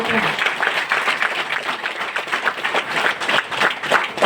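Dense, continuous clapping from a crowd, steady and fairly loud throughout, with no break.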